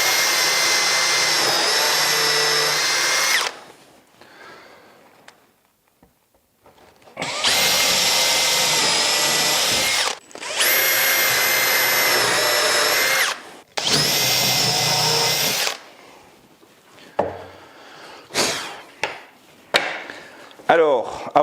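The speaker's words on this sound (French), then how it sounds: "Je perce le reste." A power drill bores into a lightweight workbench top panel in a few long, loud bursts of steady whine, separated by pauses and finished with short, quieter blips and handling clatter.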